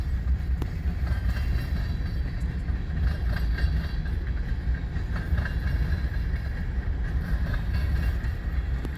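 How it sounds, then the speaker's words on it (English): A freight train rolls past near Fremont, Nebraska with a heavy continuous low rumble and faint rhythmic wheel clatter, steady and fairly close throughout. "Second train, third one's on its way"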